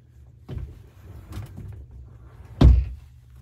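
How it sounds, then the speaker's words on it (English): A closet door in a bedroom shuts with one solid thunk near the end, after a couple of softer handling knocks and rustles, close by and with no talking. "since I just closed the door"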